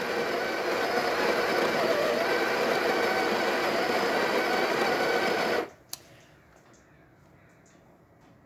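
A Breville espresso machine's built-in grinder runs steadily and loudly at a fine setting, a dense whirring grind that cuts off abruptly partway through, followed by a single click and then near quiet.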